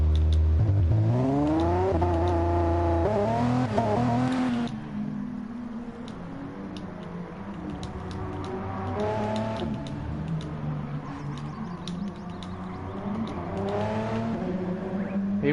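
Audi R18 Le Mans prototype race cars in a racing video game whine through rising engine revs and gear changes, loud at first, then easing into a steady drone with further accelerations near the end.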